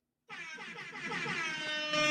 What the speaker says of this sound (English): We're going to give him 2 rings on an air horn.